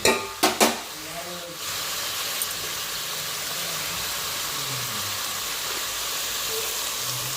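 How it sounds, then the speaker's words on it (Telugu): Mutton with chilli powder, turmeric and ginger frying in a pan, a few clattering knocks at first, then a steady close sizzle and hiss that continues to the end. "ఇవైతే బాగా వేగుతూ ఉన్నాయి కదా"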